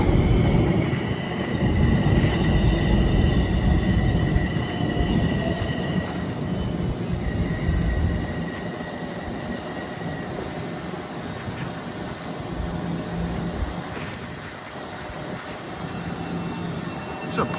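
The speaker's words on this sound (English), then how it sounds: "There's a Greystone-bound train on track number" A Greystone-bound commuter train rumbles past at moderate distance in Harlem, a steady low roar with a faint tonal whine, easing slightly as it moves on under gusty wind.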